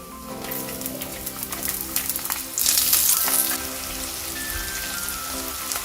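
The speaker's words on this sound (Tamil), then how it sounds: "ஏற்கனவே வெட்டி வச்ச வெங்காயத்தை மிதக்க சேர்ப்போம்" Chopped onions hit hot oil in a pan for a Tamil chicken pepper fry and crackle with a steady, close, rain-like sizzle. The hiss swells briefly midway and carries on without any voices.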